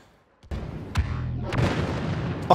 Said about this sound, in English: Pulse cannon. I think that's the thing I'm using.